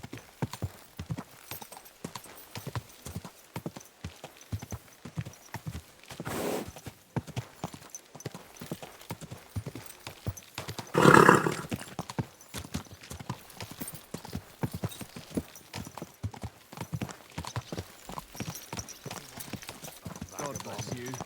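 Horse hooves clip-clop steadily at a walking pace in the medieval video game Kingdom Come: Deliverance II, a close rhythmic stream of soft thuds with a brief louder burst midway.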